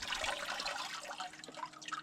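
Water tipped out of a perforated gold prospecting container, a brief close splash and gurgle of pouring that thins to a few drips at the end.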